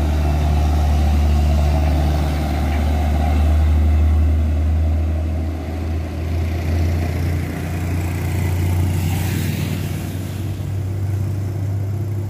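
A Hino truck pulling an empty trailer labours up a steep, high climb on the Jambi–Riau border, its engine droning loud and steady at close range with a brief rise in revs partway through.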